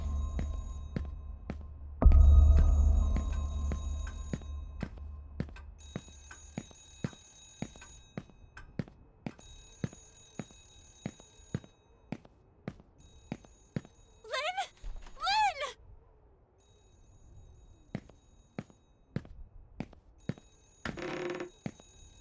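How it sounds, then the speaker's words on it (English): A telephone rings behind a locked office door in the horror game Remothered: Broken Porcelain, with short muffled ring bursts over a low throbbing ambience, fairly faint and distant. "I can hear it ringing behind the door."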